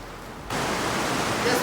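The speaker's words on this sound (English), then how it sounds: "it was not supposed to rain today." Steady broadband hiss of Florida rain sets in abruptly after a brief quiet moment, continuing evenly and fairly loud to the end.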